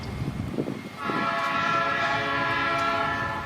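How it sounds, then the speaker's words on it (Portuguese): A freight train passes at a distance, its steady horn-like tonal drone and low rumble rising after a brief stretch of faint background noise and holding to the end. "se passar algum trem de carga de novo, aí eu gravo pra vocês"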